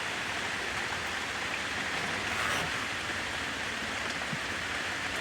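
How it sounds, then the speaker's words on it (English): Heavy rain pours down in a steady, dense hiss with no pauses, close and loud, during a storm with thunder, with no voices over it. "Here comes the rain. Very heavy now."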